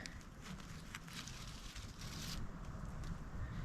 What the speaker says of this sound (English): The wind's blowing pretty good today.